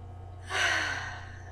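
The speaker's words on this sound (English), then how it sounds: "I close my eyes and I take 3 deep breaths" A single deep breath drawn in and slowly released, close and clear over a low steady hum, with no talking.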